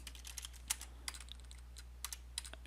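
Quick, light keystrokes on a computer keyboard as a command is typed, a dozen or so soft clicks in short bursts over a low steady hum, fairly close.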